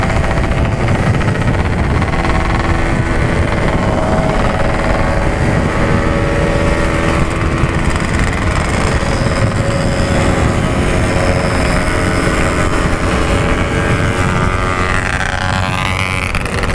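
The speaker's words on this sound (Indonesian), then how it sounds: "Semuanya pakai knalpot packing power." Several motorcycles, including Honda Beat scooters and a Yamaha Vega ZR, fitted with packing power aftermarket exhausts, ride together on the Pantura coastal route, their continuous loud engine drone blending with heavy wind noise throughout.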